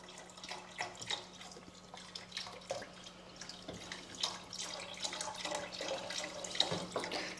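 Water pours steadily into a pot of lentil soup, a soft continuous splashing and trickling that stays fairly quiet and even.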